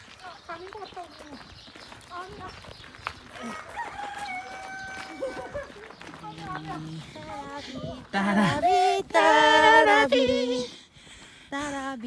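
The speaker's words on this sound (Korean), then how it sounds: "맞는데 닭이 나와 있어" Chicken clucking and crowing, loud and close in the second half, over a lively mix of other sounds and people talking nearby.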